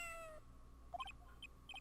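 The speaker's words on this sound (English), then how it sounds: "It sounded like a cat." A cat meows in the Phoenix Wright: Ace Attorney – Justice for All game, a few short, faint, high chirping cries over a quiet background after a fading tone.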